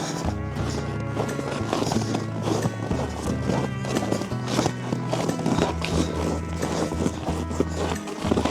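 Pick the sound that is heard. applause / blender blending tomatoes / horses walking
horses walking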